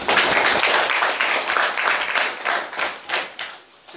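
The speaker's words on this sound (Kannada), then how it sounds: "ನೀವು ದೊಡ್ಡ ಚಪ್ಪಾಳೆ ನಿಮಗೋಸ್ಕರ ಹೊಡ್ಕೊಳ್ಳಿ" An audience at a public speech claps, a dense burst of applause that stays loud at first, then thins into scattered claps and fades out.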